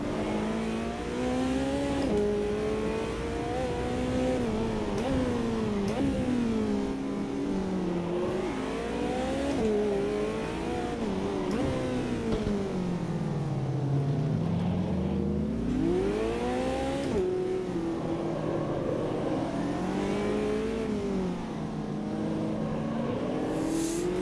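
A McLaren GT4 race car engine in the Automobilista 2 racing sim at Monaco revs up and down continuously, its pitch climbing and dropping through the gears, loud and steady throughout with no talk.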